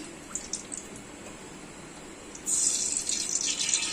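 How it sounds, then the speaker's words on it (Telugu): Cooking oil, three tea glasses of it, poured into a pan for a large chicken curry: quiet room tone with a few faint taps, then a sudden, steady, close gushing pour that continues to the end. "ఇప్పుడు ఆయిల్ వేస్తున్నాను."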